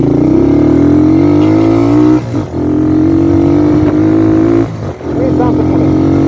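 A heavy Honda motorcycle, built up with a reinforced chassis to about 230 kg, runs loud and close on a ride, its engine note holding steady with two brief dips before rising again.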